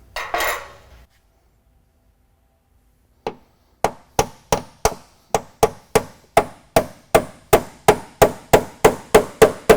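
A tool is worked between layers of ultra high strength steel body panels at a spot weld, giving one brief rustle, then a steady run of sharp, ringing metallic strikes close by, about two per second and growing slightly louder.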